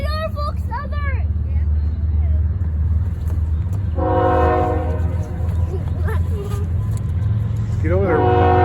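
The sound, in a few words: Norfolk Southern freight train passing with horn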